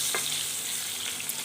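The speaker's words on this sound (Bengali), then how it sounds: "এবার ওই তেলের মধ্যে আমি দিয়ে দিচ্ছি আলুগুলোকে এইভাবেই বেশ লালচে ব্রাউন করে ভেজে আর তুলে নেব।" Potatoes are frying in hot oil over a medium-low flame, giving a steady bright sizzle with faint crackles and a few small pops close to the pan. No voices can be heard.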